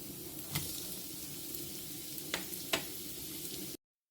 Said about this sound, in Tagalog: Gisa natin sibuyas, bawang, tsaka yung chicken cubes, paminta, tsaka tomato sauce.